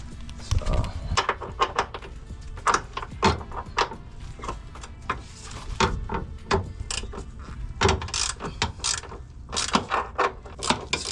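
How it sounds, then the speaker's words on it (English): A Harbor Freight ratchet wrench at work on a car during maintenance, giving a long run of sharp, closely spaced mechanical clicks in irregular bursts, close and fairly loud. "The 8th ratchet has been pretty nifty so far from Harbor Freight."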